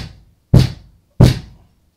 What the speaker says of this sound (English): I'm going to bang it on the floor.